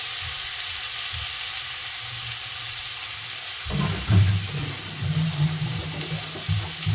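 Turmeric added to plantain curry frying in a pan: a continuous close sizzle, then after a few seconds a burst of louder stirring and scraping over the frying, with no voices.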